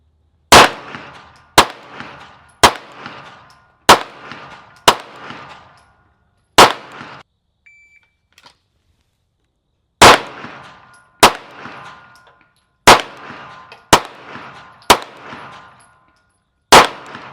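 Loud, close pistol shots ring out during a Marine Corps pistol qualification on a range, two strings of about six sharp reports each, separated by a short quiet pause, with no talking.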